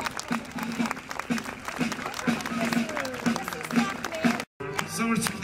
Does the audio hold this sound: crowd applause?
yes